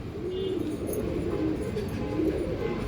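A white pigeon coos in low, soft, repeated calls, steady and close throughout.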